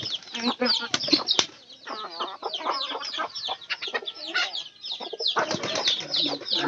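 Young chicks and hens on a small farm where pigeons also feed, giving repeated clucks and chirps up close with brief wing flaps, busy and continuous with short pauses.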